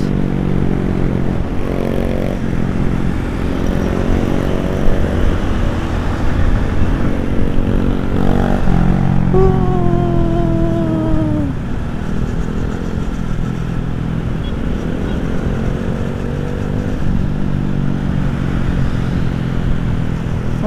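A Honda Beat scooter runs loud and close, its engine drone rising and falling as it is throttled up and sped along a road, with a brief sharper whine midway through.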